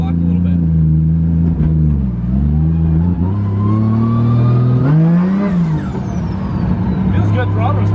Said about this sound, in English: we're on our first drive with a new engine